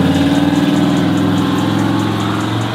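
A turbocharged Chevrolet SS clone car engine idles steadily and loud up close, a continuous low rumbling drone with faint rhythmic ticking and no voices.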